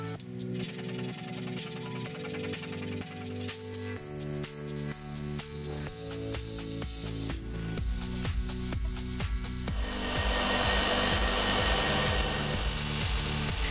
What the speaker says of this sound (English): from here I can rough out the shape using the scroll saw